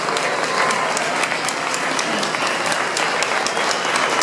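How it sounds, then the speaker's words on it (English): An audience at a fundraiser for a children's home in Nepal applauds Sophia, a dense, steady wash of many hands clapping that holds at an even level throughout with no voices over it. "Let's give Sophia a round of applause."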